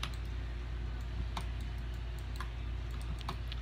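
Scattered clicks and taps from a computer keyboard and mouse during gaming, sparse and quiet over a constant low hum.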